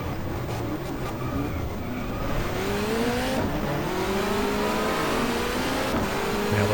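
In the GTR2 racing game, a 1994 touring car downshifts to first gear, then accelerates hard. Its engine note rises steadily and sounds loud and close, with a faint squeal from the tires.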